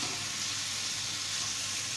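A Bihari tomato khat-mitthi fries in a pan over low flame as it is mixed, giving a soft, even sizzle with a steady hiss and a low rumble underneath, faint and without talk.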